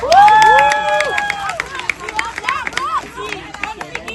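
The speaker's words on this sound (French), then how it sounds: "un gros applaudissement pour la maman d'Ariana" A crowd at an event in Port-au-Prince cheers and applauds for Ariana's mother, loud excited shouts and whoops near the start giving way to scattered claps and voices.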